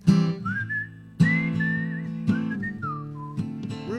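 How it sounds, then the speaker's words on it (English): A person whistles a short, bright melody of sliding notes over a sustained harmonic backing, close and clear with no talking. "whistling."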